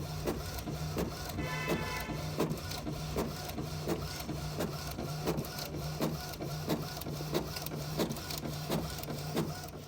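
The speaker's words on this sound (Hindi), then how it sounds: "मम्मी की रिपोर्ट्स प्रिंट हो रही हैं दोस्तों।" A printer runs steadily while printing medical reports, giving a continuous mechanical hum with rapid, regular clicking and feed ticks throughout, close and moderately quiet, with no voices.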